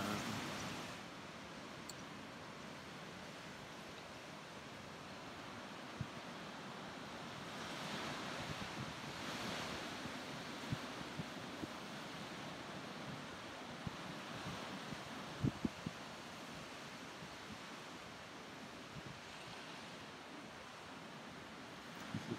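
Ocean waves roll and wash onto Coogee Beach alongside a cliff, a steady broad surf roar with swelling surges and some wind buffeting the microphone, no voices.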